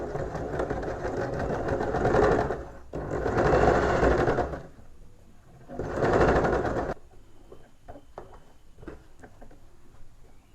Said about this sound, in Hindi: इस फोल्ड के नीचे इस तरह से करके उल्टी तरफ सिलाई लगाऊंगी